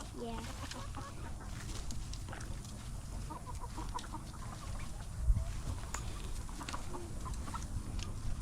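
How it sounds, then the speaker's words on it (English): Chickens clucking in a brush pile outdoors, faint scattered clucks over a low rumbling background with a voice briefly in the mix. "And Lily's it, my chicken."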